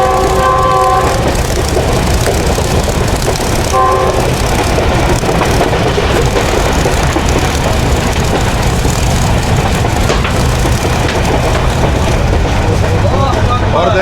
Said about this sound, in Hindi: बहुत ही कमाल की स्पीड पे ट्रेन पड़ रही है जी आगे।